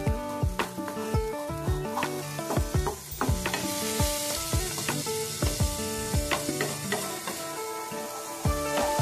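Tomato, makhana and a ground white sesame paste sizzle and fry steadily in a pan, with repeated sharp clinks and scrapes of a spoon stirring against the metal throughout.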